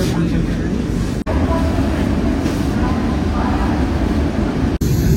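Inside a moving train carriage, a loud, steady low rumble and rushing noise fills the space close around, broken by two brief dropouts, with no talk.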